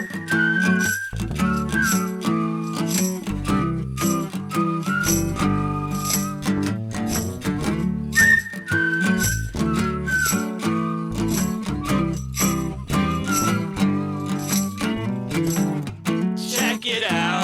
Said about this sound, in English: We're gonna whistle now.